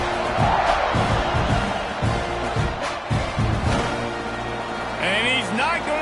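A football stadium crowd at a college game against UCLA roars and cheers in a broad, sustained wash, with a commentator talking over it.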